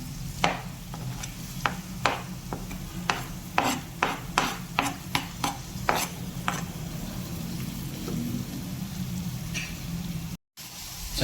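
Chopped tomatoes and chilli powder stirred and scraped in a pan, with a steady run of close, sharp scraping strokes over a low sizzle, the strokes stopping near the end.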